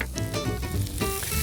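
Steady, loud sizzling of cherry tomatoes dropped into hot sauce in a pan, a continuous crackling hiss throughout with no voices.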